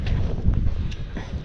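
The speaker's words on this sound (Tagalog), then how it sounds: "Malakas na yung hangin, no?" Strong wind buffets the microphone with a low, rumbling roar that stays constant for a brief moment.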